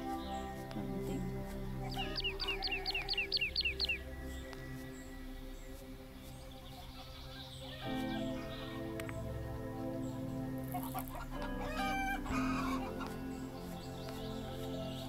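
Chickens cluck now and then in a game scene, quick rhythmic bursts of clucking over a steady background soundtrack of tones lasting the whole stretch.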